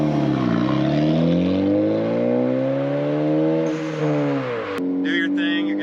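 A big-turbo Ford Focus ST engine pulls hard up through the gears, loud, close harmonic engine tones rising steadily, dipping briefly at a shift, then climbing again with a sharp turbo whoosh near the end.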